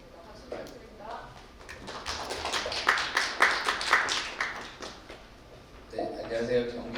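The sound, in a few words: audience applause for speaker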